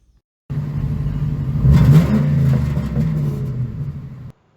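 New Edge Ford Mustang GT V8 with a Borla Atak exhaust, revving once from idle into a loud, deep rumbling blip that swells and holds before cutting off, heard close and alone.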